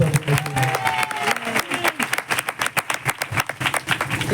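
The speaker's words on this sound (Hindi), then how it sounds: "ताली बजा कर" A congregation at a New Year's Day church service claps, rhythmic, fairly loud hand claps in a quick beat, with a voice and some tonal sound over the opening second.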